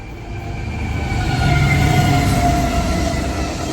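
A train rumbles past outdoors, a loud continuous roar of rolling wheels that swells in the middle and stays steady, with faint higher squealing tones and no talk.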